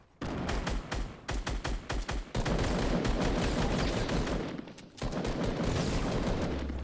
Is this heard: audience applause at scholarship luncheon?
no